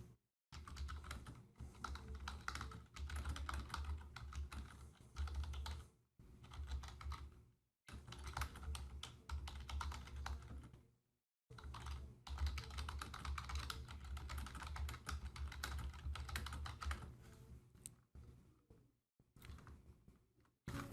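Steady typing on a computer keyboard, quick clusters of close, crisp key clicks in bursts separated by a few short silent pauses.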